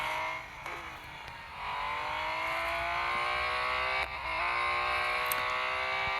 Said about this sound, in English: Growl of the engine on the Porsche, very unique, right?